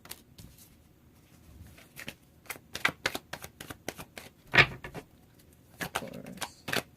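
Tarot cards being shuffled and drawn, a series of crisp riffling flicks and snaps in an irregular rhythm, close and fairly quiet, with no voice over them.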